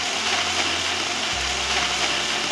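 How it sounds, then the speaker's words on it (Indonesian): Electric blender running steadily, grinding candlenuts, garlic, galangal, ginger and coriander with oil and a little water into a spice paste; a continuous loud whirring hum whose motor pitch drops partway through, with no talking. "Kita akan blender menggunakan minyak dan dicampur juga dengan sedikit air supaya lebih licin ya."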